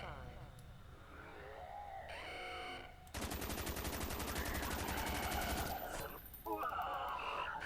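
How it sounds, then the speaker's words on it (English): A weapon in a video game fires in a long continuous burst of rapid, evenly spaced shots lasting about three seconds, loud and close, amid other game sounds and effects. "2 minutes of continuous fire"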